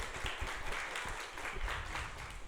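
Steady applause from a podcast audience, many hands clapping continuously at moderate volume with no pauses.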